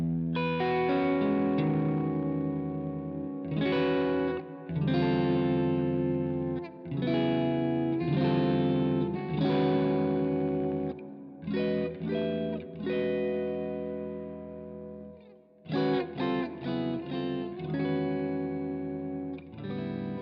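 Electric guitar rings out through effects, sustained distorted chords and phrases with chorus-like shimmer, played loud and dense for about twenty seconds with short breaks between passages and no talking.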